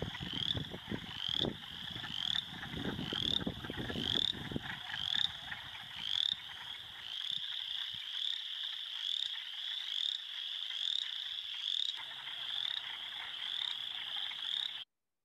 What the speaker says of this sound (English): So you sure have heard at least two different frogs.